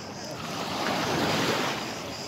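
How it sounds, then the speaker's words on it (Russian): Aegean Sea waves wash onto Agia Marina beach in a steady, broad rush of surf, swelling slightly and then easing, with some wind noise over the microphone and no voices. "вот вам Эгейское море, вот вам и пляж Святой Марины"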